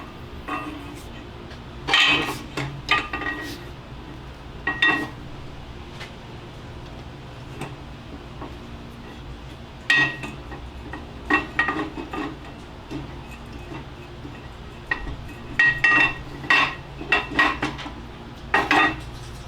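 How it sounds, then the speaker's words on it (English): Axles being slid back into a Chrysler 9.25 rear axle housing, with an oiled seal and bearing, during a drum-to-disc brake conversion. Sharp metallic clinks and clanks come in bursts and irregular clusters, close and fairly loud, with no talking. "now we can go ahead and reinstall the axles"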